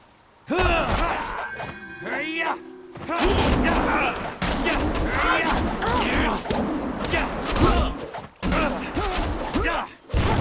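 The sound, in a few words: cannon fire in the video game Jade Empire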